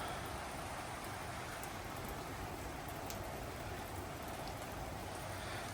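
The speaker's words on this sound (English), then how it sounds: "Nice Florida rain shower." Steady Florida rain shower, a dense, even hiss of falling water on surfaces, faint and continuous throughout with no voices.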